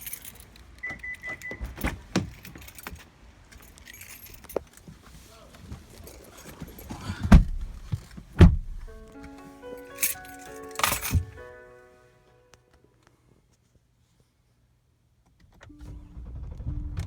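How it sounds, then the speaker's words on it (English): A Hyundai Genesis 5.0 sedan being entered and started: a few sharp door thumps and clicks, then the engine cranking and catching, followed by near-silence and a low idle returning, with people talking early on. "You open the door of the car, and like just get in and like start the car"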